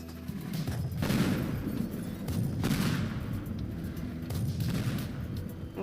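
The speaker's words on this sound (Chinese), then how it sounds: "先用坦克炸" In the video game Teardown, a tank fires and blows up a restaurant: repeated heavy booming blasts with crumbling debris, several explosions spaced a second or two apart under continuous rumble.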